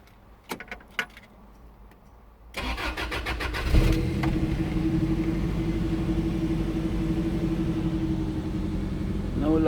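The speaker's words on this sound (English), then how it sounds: "But now I'm gonna start the car, and we'll see if the relay works." Car engine starting after a few faint clicks and key jingles: the starter cranks briefly, the engine catches with a burst, then settles into a steady, even idle that continues to the end.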